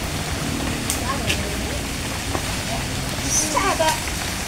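Steady rain falling outdoors during a calamansi harvest, a constant close hiss with occasional drips and brief knocks, voices faintly mixed in.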